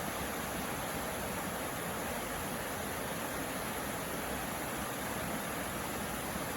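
Water rushing steadily down the stream at Timbersbrook, Cheshire, a constant close hiss and roar with no pauses or voices.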